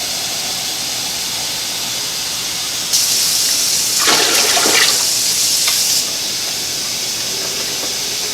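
Water pours and hisses into a canning water bath pot holding jars of peppers, a loud rushing burst lasting a few seconds over a steady background hiss, with no voices.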